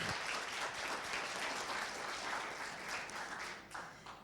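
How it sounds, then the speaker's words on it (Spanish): Audience applause at a triple impact conference session, steady broadband clapping throughout, moderately loud and continuous with no talk over it, tapering slightly near the end. "Un aplauso, por favor, a Carlota."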